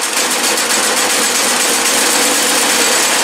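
A Predator 212cc snow blower engine idles in a steady, dense mechanical drone that stays loud and unbroken throughout, with no voices.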